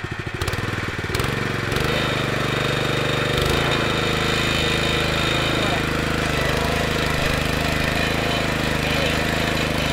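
A petrol rotavator engine running at slow speed in a garden makeover, loud and steady with a rough mechanical chatter after a few uneven bursts at the start.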